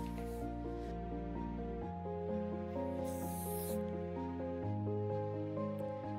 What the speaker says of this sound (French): on termine avec un spray brillant pour faire briller les cheveux